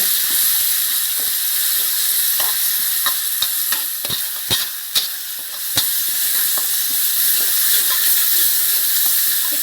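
Red curry paste stir-frying in oil in a pan for a spicy sea catfish curry with basil, a steady loud sizzle and hiss broken by repeated spatula scrapes and clacks against the pan, with no talking.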